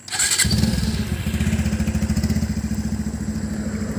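A motorbike engine starts and settles into a loud, close, rapidly pulsing idle, each firing stroke audible as an even rhythmic chug.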